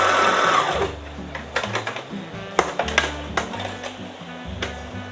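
Close sewing machine stitching a buttonhole on a DIY garment, a steady whirring run at first, then a series of uneven clicks and taps as stitching continues and slows.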